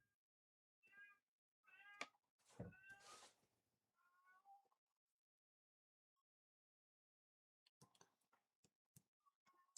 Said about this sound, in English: you can hear my cat meowing the whole time